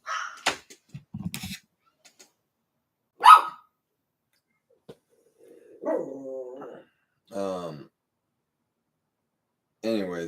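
A dog barks and yips in short scattered bursts, fairly close, alternating with a man's speech in a quiet indoor room.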